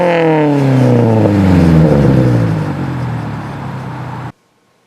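A stick shift car engine revs hard and loud up close, its pitch climbing and falling through several sweeps before cutting off abruptly into silence.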